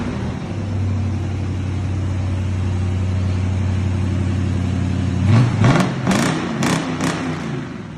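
A fuel-injected Fastback car engine idles with a steady low rumble, held close and loud, before a few sharp clicks and clatters break in near the end.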